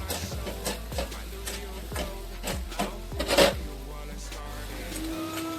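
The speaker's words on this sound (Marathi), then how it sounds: "त्याला व्यवस्थित हलवून घ्यायचं आणि स्मॅशरने स्मॅश करून घ्यायचं." Boiled peas and a boiled potato mashed with a hand masher for a matar kachori filling, giving a string of soft, near, irregular thumps and squelchy scrapes at a steady working pace, with no talk.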